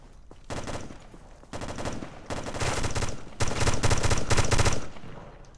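Automatic gunfire in the online shooter America's Army Proving Grounds, several loud sustained bursts of rapid shots close by, growing denser and heavier toward the end.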